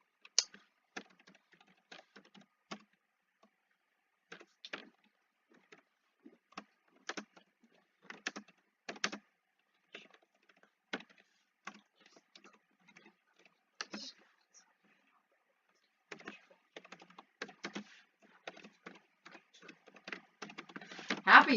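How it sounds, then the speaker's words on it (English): Fingers typing on a computer keyboard, sparse quiet clicks and short bursts of keystrokes spread out with pauses, picking up into faster rapid typing near the end, heard up close with no talk. "because I'm typing"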